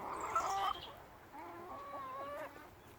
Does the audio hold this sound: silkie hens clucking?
yes